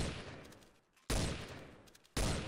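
Video game gunfire comes in three sudden, loud bursts of rapid shots, each fading over about a second, with no voices between them.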